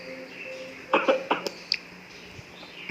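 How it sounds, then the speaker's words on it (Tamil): Someone with an unmuted microphone on an online class call gives a few short coughs in quick succession, faint and slightly distant over a quiet background hum. "நீ அன்மியூட் பண்ணிட்டு இருமுற"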